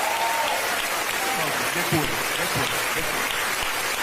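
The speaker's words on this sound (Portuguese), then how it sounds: "Pode aplaudir, pode aplaudir." A church congregation breaks into applause during a sermon on confession as a sacrament of healing, a broad steady wash of clapping with a preacher's voice continuing over it.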